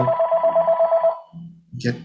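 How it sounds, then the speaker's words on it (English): A landline telephone rings with a steady trilling electronic tone for about a second, close and loud, then stops as a voice begins. "we get spam phone calls all the time. Let me see if I can stop it from ringing."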